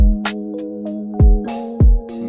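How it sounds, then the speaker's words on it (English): Drum bus for a dark pop/R&B beat, run through a Studer tape machine, a bus compressor and Decapitator saturation: deep booming kicks, crisp snare and hat hits over a sustained bass tone, loud and punchy, no voices. "We got this bus compressor and a little decapitator doing some saturation,"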